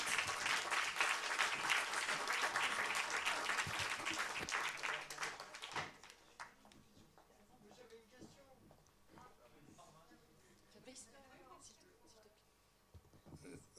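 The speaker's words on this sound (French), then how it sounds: "Je voudrais applaudir nos deux intervenants" Audience applause at an annual conference for two speakers, dense and loud for about six seconds before fading into scattered claps and quiet room murmur.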